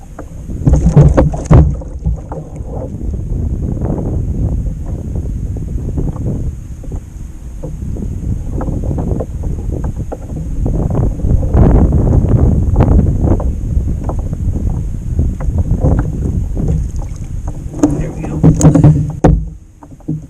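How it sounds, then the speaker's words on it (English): Steady wind buffets the microphone on a kayak out fishing for catfish, a continuous rushing roar with gusts that swell and fade, heard alone. "Wind has picked up."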